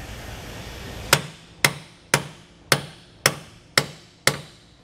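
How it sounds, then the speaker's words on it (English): Seven sharp, ringing hammer blows drive a step bolt into a double-eye spring hanger on a 2020 Grand Design Momentum trailer, spaced about half a second apart, each a loud metallic strike that decays quickly, with no talking. "so we're going to take our hammer"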